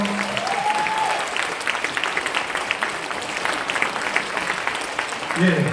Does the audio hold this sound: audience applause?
yes